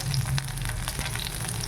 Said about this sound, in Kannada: ಚೆನ್ನಾಗಿ ಎಣ್ಣೆಯಲ್ಲಿ ಫ್ರೈ ಮಾಡಬೇಕು.